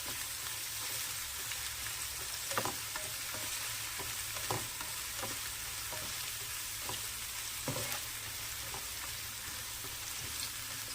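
Tempering in coconut oil while cooking a mushroom roast: a steady crackling sizzle fills the pan, broken by occasional spoon scrapes and clinks as the contents are stirred, all close by with no voices.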